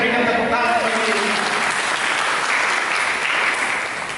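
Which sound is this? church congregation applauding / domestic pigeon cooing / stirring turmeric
church congregation applauding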